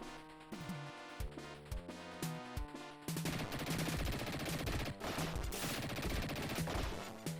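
Rapid Tommy gun fire from the Sega Genesis game Dick Tracy, a loud continuous rattle of shots over looping game music, starting after the first few seconds and running to the end.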